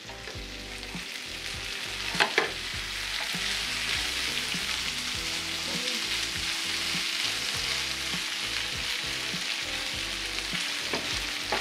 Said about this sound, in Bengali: পেঁয়াজটা আরেকটু এটা ভাজা ভাজা হবে